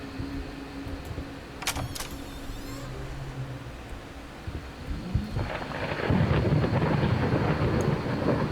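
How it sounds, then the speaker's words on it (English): Rain in the video game Layers of Fear swells from a faint patter into a steady, heavy downpour over a low rumble, with no voices. "At least it's raining."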